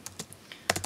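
Code being typed on a computer keyboard, a short burst of crisp, close keystrokes with a brief pause and then a faster cluster of clicks.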